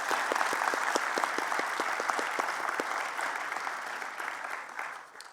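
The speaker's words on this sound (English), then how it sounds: "Let's have the first of many applause for that group." A crowd at a university alumni awards ceremony applauds the honorees, steady full clapping from a large audience that holds strong before fading out at the close.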